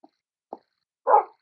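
A dog in the Minecraft video game gives a few short, sparse yelps and a soft whimper-like bark, clean and isolated with silence between them.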